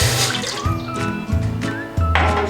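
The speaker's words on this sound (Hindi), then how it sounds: "उसके अंदर मैं ये डालूंगी 1 कप पानी" Water poured from a cup into a cooking pan for a tamarind and plum sharbat, a brief close, bubbling splash with a few gurgling bursts.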